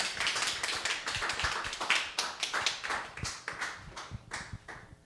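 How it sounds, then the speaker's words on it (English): An audience at a talk show breaks into applause, a modest crowd clapping steadily up close for several seconds with no talking. "A round of applause for Millie and Emily, everyone."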